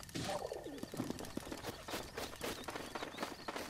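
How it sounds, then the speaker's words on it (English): A bird in The Legend of Zelda: Breath of the Wild gives short cooing calls amid scattered footsteps and rustling game noise, close and moderately loud over a few seconds. "now we got another fucking bird in here looking all big and beautiful"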